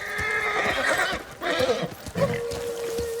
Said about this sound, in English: Horse is freaking out.